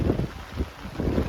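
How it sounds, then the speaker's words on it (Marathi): Strong wind gusting across a hilltop in heavy rain, a loud, close rushing roar with buffeting bursts against the microphone, no voices. "वारा पण जाम सुटला आणि पाऊस तर कसला खतरनाक येतो"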